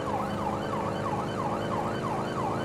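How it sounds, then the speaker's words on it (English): Police car sirens wail, sweeping up and down in a steady, fast repeating cycle over a constant engine rumble, loud and continuous. "our sirens are in sync"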